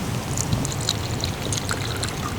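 Water pours steadily from a collapsible water bottle into a bowl for a thirsty dog on an autumn outdoor walk. The splashing trickle runs for a couple of seconds against faint outdoor background noise.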